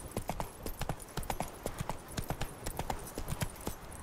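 Roach the horse gallops in The Witcher 3, with quick, rhythmic hoofbeats close by that repeat steadily throughout, heard alone.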